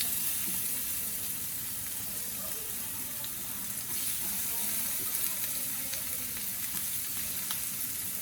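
Garlic added to hot oil with fennel seeds for vanjaram karuvadu thokku sizzles in a steady, continuous hiss, with faint clinks and scraping over the frying.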